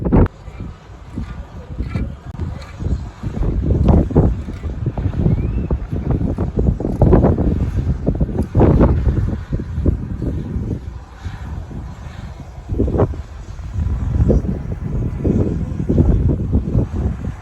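A passenger boat carrying people and motorbikes crosses the water toward Islamgarh near Mirpur, its motor churning steadily under heavy wind buffeting the microphone, with a voice talking over it.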